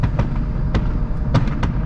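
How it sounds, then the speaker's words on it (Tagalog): A string of fireworks at Niagara's Festival of Lights on Dufferin Island pops and cracks at irregular intervals, several sharp bursts over a constant low rumble. "Tapos na yung fireworks."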